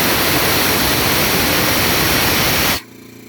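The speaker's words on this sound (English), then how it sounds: "Now I'm gonna release some air so it can start pumping again." Air Star 50 dental air compressor releasing air in a loud, steady hiss that rushes for nearly three seconds, then cuts off abruptly, leaving only a faint low hum.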